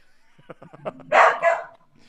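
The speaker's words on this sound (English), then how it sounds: "It sounds like you didn't get your dog out before the rain this morning." A dog barks outside a shut door, wanting to come in: a few soft yips and short rhythmic sounds, then two louder, drawn-out barks, heard nearby and alone.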